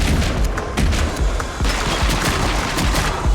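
Rapid gunfire in a platformer video game where recoil propels the player's jumps: a dense stream of close, punchy shots with booming low impacts, firing almost continuously with no speech.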